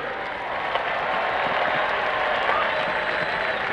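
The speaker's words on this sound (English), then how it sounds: "Let's hear a round of applause for our outstanding cheerleaders." A stadium crowd applauds the cheerleaders at a halftime show, a broad, sustained roar of clapping and cheering that stays loud and even throughout.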